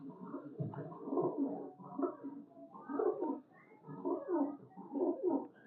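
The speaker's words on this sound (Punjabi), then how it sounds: "ਕਬੂਤਰ ਵਿਖਾ ਲੈਣ ਨੂੰ ਤਾਂ ਫਿਰ ਜਿੰਨੇ ਮਰਜ਼ੀ ਵਿਖਾਈ ਜਾਓ।" Domestic flying pigeons coo up close in a steady run of low, throaty, rolling phrases, about five or six of them with brief gaps between, with nothing else heard.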